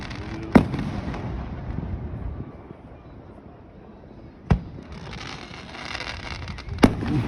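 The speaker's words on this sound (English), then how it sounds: "Mortars." Fourth of July fireworks mortars burst over Gouverneur, New York, as three loud, sharp booms spaced a few seconds apart, each ringing over a low background rumble.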